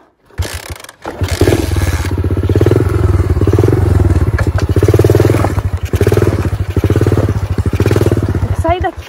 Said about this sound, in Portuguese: A moto não pega.